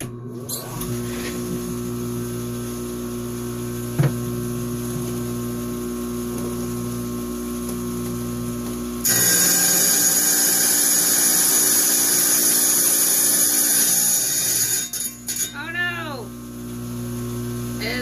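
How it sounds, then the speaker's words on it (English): A wet tile saw's motor hums steadily, then a harsher, louder grinding joins as the blade cuts through stone, stopping abruptly near the end. "I'm going to go ahead and take it over to the wet tile saw, and we're going to cut the core out of it"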